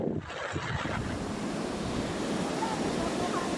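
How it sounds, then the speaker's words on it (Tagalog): Large waves strike the shore by resorts in San Felipe, Zambales, making a steady, loud roar of surf mixed with heavy wind buffeting the microphone. "naperwisyo ng malalaking alon ng ilang resort"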